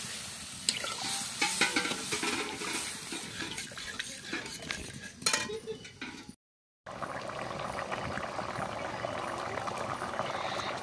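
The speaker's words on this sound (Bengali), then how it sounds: "দেখো ঝোল কি সুন্দর ফুটে এসেছে" Fish curry broth bubbling at a rolling boil in a pan for two, with steady seething, faint clinks of a pot and utensil, and a brief dropout partway before the simmering hiss resumes, no one talking.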